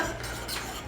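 Flour and baking soda stirred together in a bowl, a short soft scraping swish of utensil against the dish, close and steady.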